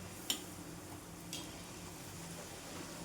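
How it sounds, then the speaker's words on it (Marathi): Puri frying in hot oil, a low steady sizzle running throughout with a couple of brief sharp crackles near the start and middle. "आपल्या सगळ्याच पुऱ्या तळून घ्यायच्या"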